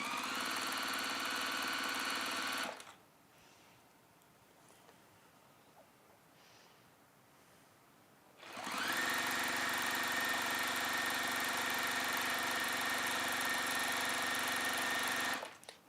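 A sewing machine runs a long seam down the side of a velvet washbag, whirring loud and steady for a couple of seconds, stopping for a quiet pause, then running again in one long continuous burst.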